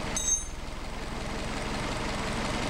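A car engine on Solex carburetors idles steadily at moderate volume, a low even rumble with a brief hiss near the start and no talking.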